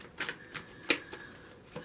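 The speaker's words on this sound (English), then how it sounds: "I have to look up when I shuffle these cards because, you know, there's stuff on both sides." Tarot cards shuffled by hand in a short quiet run: several soft riffling flicks and one sharper snap partway through, close and alone with no voices.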